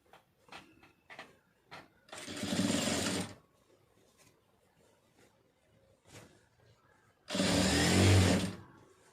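Sewing machine stitching a lined blouse, running in two sustained bursts of about a second and a half each, with small clicks and handling noises between the runs.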